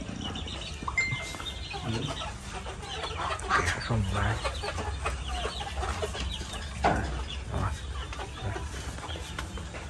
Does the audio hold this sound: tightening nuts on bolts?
no